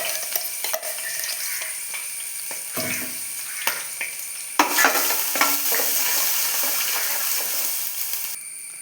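Crushed ginger and garlic fry in hot oil, giving a steady close sizzle with scraping stirs and clinks from a spoon, louder and busier after a sharp addition partway through.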